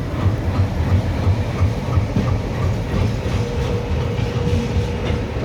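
A passing express train, likely the Danapur–Udhna, rolls by near Katni Junction with a loud, continuous low rumble and rhythmic wheel clatter throughout.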